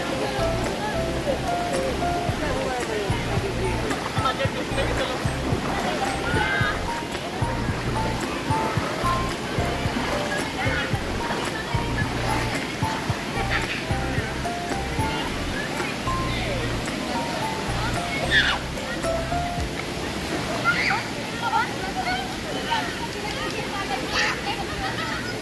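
Water flows and rushes steadily on both sides of a walking path, a continuous loud wash that persists throughout, with people talking over it now and then.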